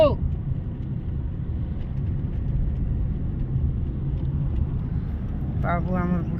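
A car drives along a road on the way to a wedding house, its steady low engine and tyre rumble droning throughout, with a brief voice at the start and again near the end.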